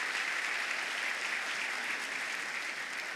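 Steady, even applause from an audience at a school honors awards evening, a dense wash of clapping heard from a distance, with no voices over it.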